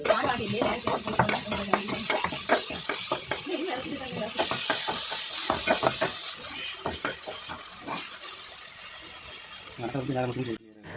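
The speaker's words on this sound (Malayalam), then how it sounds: "നമ്മൾ തക്കാളിക്കൂട്ടം കൂടെ ചേർത്ത് കൊടുത്തു കേട്ടോ എന്നിട്ട് നമ്മൾ നന്നായിട്ടൊന്ന് ഇളക്കി കൊടുത്തു കേട്ടോ" Onion and tomato masala stirred in a pan, a steady run of scraping strokes over a soft sizzle with a voice talking underneath, then a brief louder hiss near the end.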